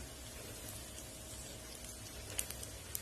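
Semiya pakoda deep-fries in hot oil with a soft, steady sizzle and a few faint pops, heard close and alone.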